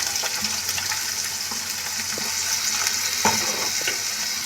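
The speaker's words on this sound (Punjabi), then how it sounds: "ਇੱਕ ਚਮਚੇ ਦੇ ਕਰੀਬ ਆਪਾਂ ਤੇਲ ਪਾਇਆ ਇਹਦੇ ਵਿੱਚ ਹੁਣ ਸਭ ਤੋਂ ਪਹਿਲਾਂ ਆਪਾਂ ਥੋੜਾ ਜਿਹਾ ਜੀਰਾ ਪਾ ਦਾਂਗੇ" Cumin seeds and bitter gourd peels sizzle in about a spoonful of hot oil in a pan, a steady close frying hiss with faint stirring clinks throughout, no talking.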